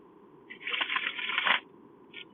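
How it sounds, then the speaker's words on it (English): A tarot card deck riffled in a quick bridge shuffle, a dense papery flutter lasting about a second, followed by a brief soft tap of cards settling, close and fairly quiet with no talk. "It was kind of a terrible bridge shuffle."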